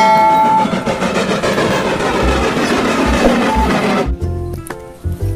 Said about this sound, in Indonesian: lihat teman-teman, ada kereta api Thomas